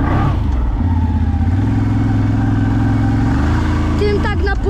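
A CF Moto 1000 engine drones and accelerates steadily at close range, with loud low harmonic rumble rising through the clip and a brief whine near the end.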